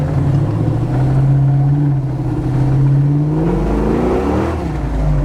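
An LS-swapped Chevy Nova on decent-sized tires drives along with a loud, steady V8 engine drone close by, holding pitch before rising and falling through revs, with no talking.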